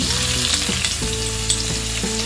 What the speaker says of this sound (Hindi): ऑयल तेल गरम हो गया अब हम इसमें डालेंगे एक टीस्पून जीरा हाफ टी स्पून हींग वन इंच जिंजर चॉप्ड